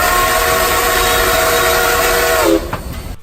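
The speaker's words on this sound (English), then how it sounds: "The 3-chime steam whistle sound is a stock sound effect recorded from Southern Railway number 4501" A loud, close three-chime steam whistle recorded from Southern Railway steam locomotive No. 4501 blows as a long held chord over rumbling train noise, then drops in pitch and cuts off near the end.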